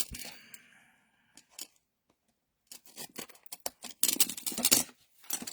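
Close, crisp scissor snips through paper while trimming a split-top box lid, coming in short irregular bursts with quiet gaps between them.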